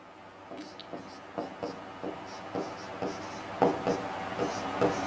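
Chalk or marker writing on a board during a chemistry lesson, a string of quick scratchy strokes in an uneven rhythm, close and fairly quiet, with no speech heard.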